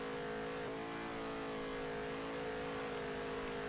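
Race car engine in NASCAR Heat 3 holds a steady high drone at speed, a continuous loud roar with layered whine and no talk over it.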